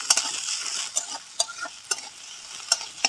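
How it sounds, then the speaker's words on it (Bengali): Chopped onions frying in oil, a bright crackling sizzle broken by regular spatula scrapes and taps against the pan, close and clear with no talking. "পেঁয়াজগুলোকে ভালো করে ভেজে নেব"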